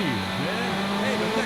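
Ferrari F355 engine in a Dreamcast racing game, held against the rev limiter so the pitch bounces and wavers in a steady buzzing drone, loud and continuous throughout.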